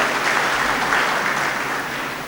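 Audience applause welcomes Kapilbhai Shukla, a prominent theatre artist from Surat, as guest at a garba talk event; dense, steady clapping fills the room without pause for a couple of seconds.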